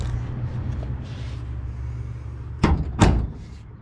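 A door on a 1952 Plymouth hot rod swings shut as a roller rides onto the body and centres it against the stop. Two sharp, close thumps land in quick succession over a low background rumble.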